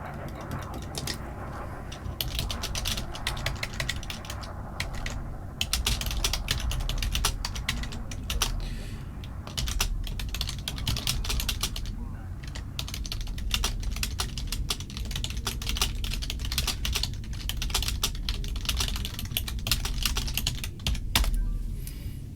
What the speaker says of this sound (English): Sorry about my loud keyboard. Yes, that's my bad typing.